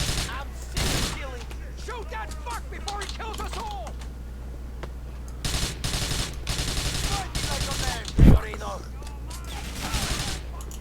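Bursts of gunfire from the video game Grand Theft Auto IV crackle in rapid volleys during a speedrun, with one loud close shot near the end, while someone talks over the action.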